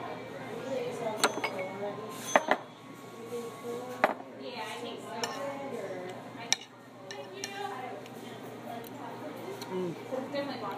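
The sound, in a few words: cutlery clinking on plate while eating fish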